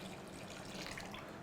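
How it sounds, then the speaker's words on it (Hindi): Regular tap water poured into hot sugar syrup for rasgulla, a soft continuous trickle and splash, faint and steady for a brief moment with no speech. "ये है गर्मा गर्म चाशनी, इसके अंदर हम डालेंगे रेगुलर टैप वाटर।"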